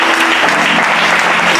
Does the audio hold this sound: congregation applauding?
yes